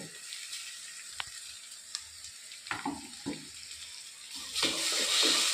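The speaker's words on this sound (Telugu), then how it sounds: "ఇది కూడా పచ్చి వాసన పోయేంత వరకు ఫ్రై చేద్దాం" Coarse green chili paste frying in a pan, a bright steady sizzle up close with occasional stirring taps and scrapes, rising to a louder hiss at the end, no speech.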